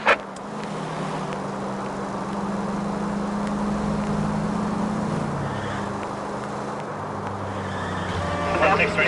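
Car driving in L.A. Noire, a steady low engine drone holding throughout at moderate level with a brief pitch rise midway, a sharp knock at the start, and faint background city noise.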